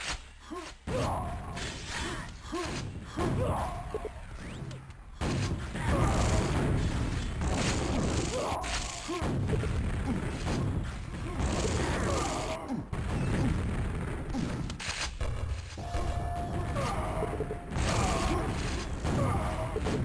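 Grenade blasts and clanking weapon mechanisms from a Quakeworld deathmatch, with several sharp booms and crashes scattered through a busy, loud stretch of combat noise.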